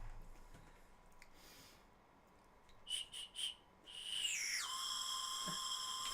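Someone blows a whistle candy in short bursts: three quick shrill toots, then a long sustained whistle that slides down in pitch, faint and alone against quiet background.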